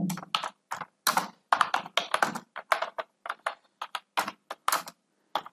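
Computer keyboard typing in irregular bursts of quick clicking keystrokes separated by short pauses, close and fairly loud, with no voices.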